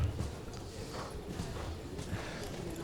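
A mare's hooves clip-clop steadily on an arena surface during a Grand Prix dressage test, a soft and even rhythm of muffled footfalls heard from a moderate distance with no talk.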